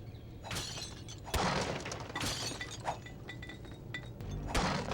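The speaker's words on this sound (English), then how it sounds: "Don't mind me just casually smashing up your entire basement here." Repeated glassy shatters and crashes of objects being smashed in a basement in Baldur's Gate: Dark Alliance on Xbox, several breaking bursts spread across the clip over game ambience, with no talk.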